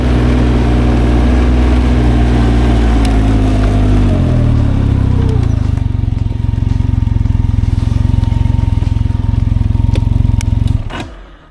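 Motorcycle engine running close and loud, a deep steady rumble that drops in pitch partway through and settles into idle before cutting off abruptly at the end.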